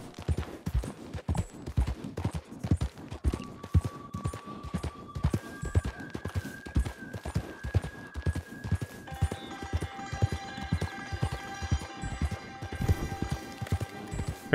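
A horse gallops steadily in the video game Red Dead Online, with rapid rhythmic hoofbeats running continuously and close, a few faint tonal game sounds layered above.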